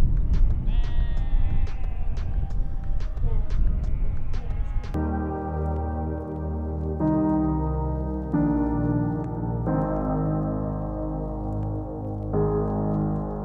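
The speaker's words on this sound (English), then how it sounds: "I don't know if you can hear all these sheep." Many sheep bleat repeatedly across a stormy hillside near an abandoned village, calls overlapping loud and close at first, then sustained, fuller bleats carry on through the rest.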